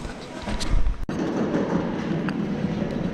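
A train rumbles at a station on the way to Seoul, with a low steady rolling roar and a sharp thump early on, while people talk nearby.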